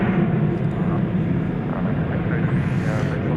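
A Qantas airliner takes off at DFW Airport at night, a steady, fairly loud jet rumble, with a voice talking over it.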